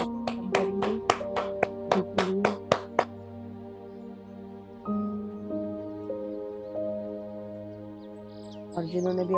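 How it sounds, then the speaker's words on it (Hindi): A meditation group at an Aanapansati session claps loudly, a quick run of sharp, close claps for about three seconds, then sustained ringing tones carry on with a few scattered taps near the end. "हम तेज से ताली बजाएंगे,"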